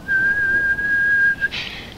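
One loud, shrill human whistle sounds close up as a single steady note held for over a second, then cuts off sharply.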